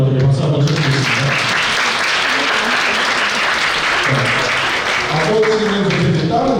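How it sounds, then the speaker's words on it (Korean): An audience claps continuously and fairly loudly at a parents' school gathering as a kindergarten student comes forward. Brief voices are heard at the start and end. "우리 최근에 나올 때 박수 한번 쳐주시겠습니다"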